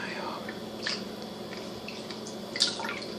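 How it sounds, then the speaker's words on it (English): Soft, sparse water drips while sea moss is prepared, a few faint isolated plinks over low background noise, with a quiet whispering voice. "The sound of water dripping like that."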